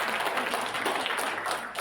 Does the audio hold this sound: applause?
yes